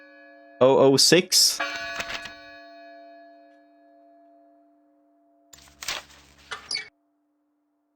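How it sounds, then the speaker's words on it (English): Chiming bell tones from the Submachine point-and-click video game ring out in a couple of short bursts with long decaying tails, separated by a quiet pause, while a person talks over them. "And we're gonna hear the fucking bell ringing."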